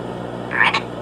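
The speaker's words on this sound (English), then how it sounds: "Whoa, look at that little guy. That's a frog, Danny" A single short frog croak, heard once near the end of the second over a steady background hum in a children's animal-learning show.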